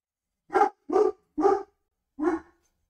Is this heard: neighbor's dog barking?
yes